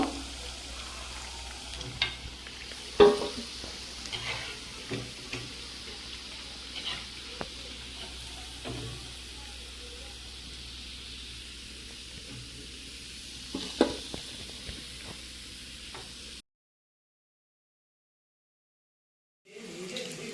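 Fenugreek leaf vadas fry in ghee on a tawa, producing a steady, low, close sizzle with occasional light taps and scrapes. The sizzle cuts to silence for a few seconds, then briefly returns.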